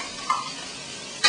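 Greens and bok choy stir-frying in a hot pan, a steady sizzle with a brief stir near the start and a sharper scrape or toss at the end, close and fairly loud.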